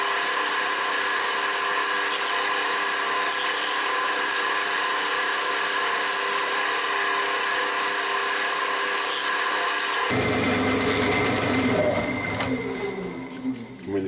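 Kitchen roll rubs a finish off a tulipwood bowl spinning on a lathe, a steady hissing friction over the motor hum that changes character partway through as the paper shifts.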